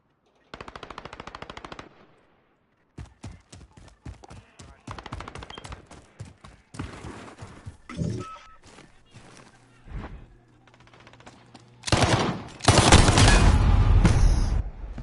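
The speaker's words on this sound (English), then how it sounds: "This guy just keeps shooting." Rapid bursts of video game gunfire, including machine-gun rattles and sharp shots, come in clustered volleys separated by short pauses, ending in a louder, dense barrage.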